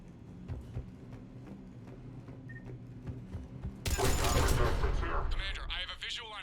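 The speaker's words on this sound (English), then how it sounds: "The cannon fire is clearing the way." Heavy cannon fire and gunfire in the Mass Effect video game, with a loud sustained barrage erupting midway over quieter background rumble and a voice speaking.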